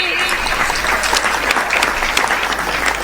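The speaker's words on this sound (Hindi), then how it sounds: "यहाँ से लेके और वहां तक हाथ उठाकर बजाओ ताली" Audience applause fills a poetry recital hall, dense steady clapping from many hands throughout, loud and sustained with no pauses.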